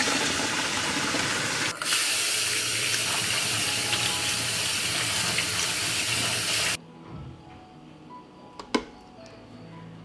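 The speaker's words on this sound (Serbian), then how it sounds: "Pasulj je kuvao 5 minuta i nosim ga sad na ispiranje" Cooked beans being rinsed under a running kitchen tap: a loud, steady gush of water for several seconds that abruptly stops, followed by quieter clinks and handling sounds.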